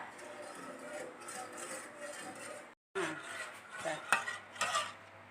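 A pot of coconut milk mixed with agar jelly powder and sugar is stirred over medium heat, giving steady scraping and clinking of a utensil against the pot, with a brief pause partway through and a few louder knocks near the end.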